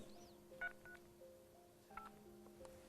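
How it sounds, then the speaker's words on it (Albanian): Telephone keypad dialing tones as a live broadcast call is reconnected: a few short, clear beeps in separate bursts over a steady background hum. "regjia të më ndihmoj për të lidhur edhe një herë me familjen Manati."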